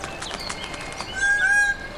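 Bird calling in a garden ecosystem, a few short chirps followed by a louder, drawn-out honking call nearby, heard alone against quiet background.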